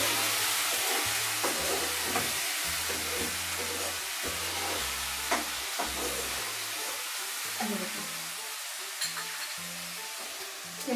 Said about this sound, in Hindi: टमाटर ऐड करने के बाद हम इसे अच्छी तरह से फ्राई करेंगे।